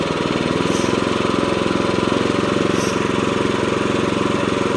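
A California Trimmer Catalyst 25-inch reel lawn mower engine runs steadily and loudly nearby, its continuous drone rising from idle toward about 3,000 RPM without any talk.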